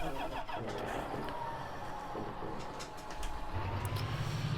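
Engine of a tractor in a farming video game starting and settling into a steady, loud rumbling idle with a slight rise in pitch and a clunk near the end, no voices.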